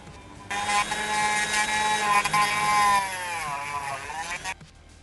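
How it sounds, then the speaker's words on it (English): A small power tool grinds the metal fenders of a die-cast Hot Wheels Ford Mustang Fastback 2+2 to widen the wheel wells. A close, steady high-pitched whine with gritty contact noise runs for several seconds, then cuts off. "I'm gonna have to grind the fenders a little bit and make the wheel wells a little bit larger."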